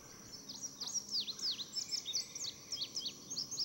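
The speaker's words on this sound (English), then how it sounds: "it is male birds that sing, and that they're probably doing it to announce themselves in their territory" Several birds sing outdoors in a quick run of high, bright chirps and short warbled phrases that repeat and overlap for a few seconds, close and fairly clear over faint background hiss, with no voices.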